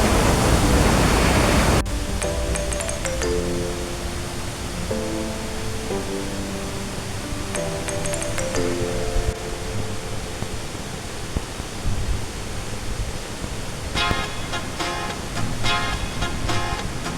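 Water flows over slippery rocks outdoors, a steady rushing wash that stands alone at first and then continues under a louder melodic music bed.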